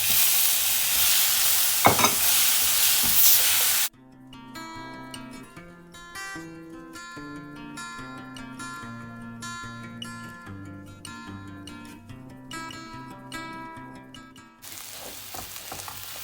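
Grated coconut and tomato sauté for a Chettinad fish curry, making a loud, steady sizzle with stirring at the start and end. A long stretch of melodic music fills the middle.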